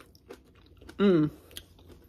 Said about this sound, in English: I finished eating the Scotch egg.